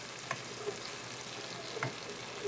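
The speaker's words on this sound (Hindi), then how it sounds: "इसके अंदर मैंने 4 प्याज़े दरमियाने साइज़ की काट के इसके अंदर शामिल कर दी हैं" Four medium onions fry quietly in a pan for butter chicken, a soft, even sizzle broken by a few light clicks of stirring against the pan.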